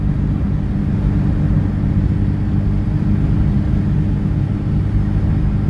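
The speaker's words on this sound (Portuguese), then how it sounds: "E o motor tá muito acelerado" Inside a VW Gol Star 1.8 cruising at 100 km/h around 3000 rpm, the engine gives a steady, loud low droning rumble mixed with road noise, unbroken and with no talk.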